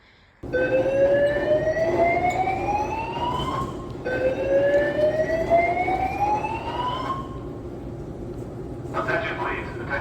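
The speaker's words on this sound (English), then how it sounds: "there's an alarm going off that the airport's being evacuated" A loud airport evacuation alarm blares in a terminal, repeated rising siren sweeps in long cycles that start abruptly and fill the space.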